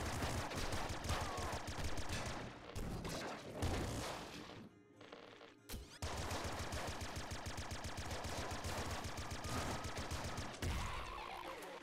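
Rapid gunfire from a weapon in the video game Nuclear Throne, with dense repeated shots and a brief lull midway before the firing resumes, loud and up front with no voice.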